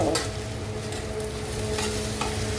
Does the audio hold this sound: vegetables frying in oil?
yes